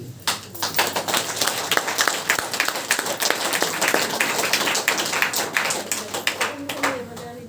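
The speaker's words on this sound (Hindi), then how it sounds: "हालेलुया, अपने आप के लिए तालियां हो जाएं।" A church congregation at Sunday prayer claps together in a dense, sustained burst of applause that fades slightly toward the end, with faint voices beneath.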